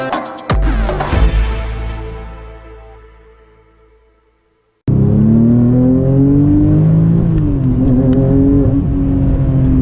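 A Porsche 996 GT2 engine flares loudly, then its note decays away and cuts out; after a pause, a steady close engine drone with shifting pitch follows as the car drives.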